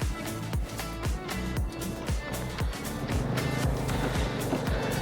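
A car passes on a mountain road in the Nako to Gue area near a monastery, a steady rumbling engine held at close range throughout, with a voice speaking faintly underneath.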